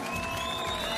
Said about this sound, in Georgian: ყველა გია შეეგებეთ ტაშით